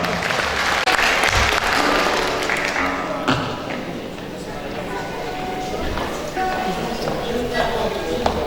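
An audience at a commemorative concert applauding as a young Azerbaijani opera soloist is welcomed on stage, clapping mixed with hall noise and a voice speaking over it.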